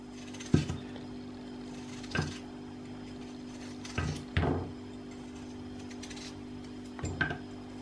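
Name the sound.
knife slicing potatoes into thin slices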